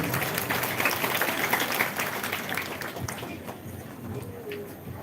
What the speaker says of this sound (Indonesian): Beri tepuk tangan untuk sanggar kita.